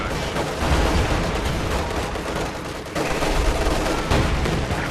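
Artillery and gunfire boom and crackle in dense, overlapping bursts during a Company of Heroes 2 battle, loud and nearly continuous, with brief dips between volleys.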